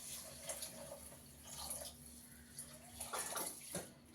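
Three glasses of water are poured into rice in a pot, making quiet splashing bursts that come and go over a few seconds.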